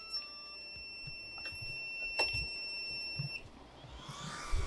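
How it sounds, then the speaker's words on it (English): A server with redundant power supplies beeps after one power cable is pulled, steady high electronic tones sounding continuously with a sharp click midway, over fan noise and room hum, no talk. "it beeps at you really loudly to tell you things are failing"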